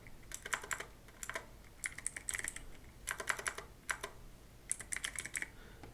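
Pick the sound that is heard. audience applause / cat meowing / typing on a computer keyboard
typing on a computer keyboard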